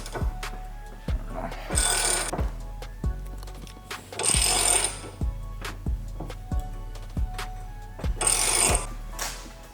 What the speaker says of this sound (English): we got things pressed in, wheel bearing and spindle